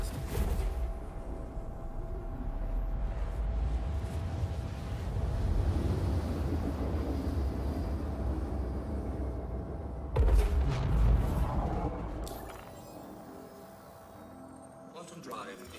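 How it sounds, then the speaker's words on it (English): A spaceship's quantum drive runs in Star Citizen as a sustained, roaring whoosh with a steady tonal hum, surging louder partway through before settling lower, while a voice talks over it. "Quantum drive is now on."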